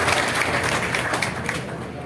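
A seated crowd at a political meeting in Narela breaks into steady, dense applause that holds at an even level for the whole stretch, with no voices over it.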